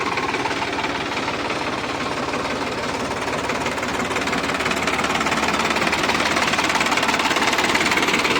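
Sonalika DI 745 tractor diesel engine running close by with a steady, rapid knocking rhythm, constant and loud throughout.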